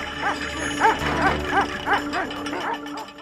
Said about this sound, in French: interrompue soudainement par un chien en liberté apparemment agressif